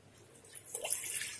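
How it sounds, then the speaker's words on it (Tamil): Water splashes into a pot. A brief pour of about one tumbler begins softly and grows louder and fuller toward the end. "இந்த அளவால ஒரு டம்ளர் தண்ணி ஊத்திக்க"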